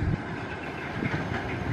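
An electric KRL commuter train rolls past on the rails near the old Jatinegara locomotive depot, a loud, continuous rumble with rattling wheels.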